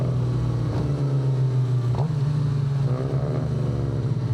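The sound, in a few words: car engines revving, including an Infiniti G37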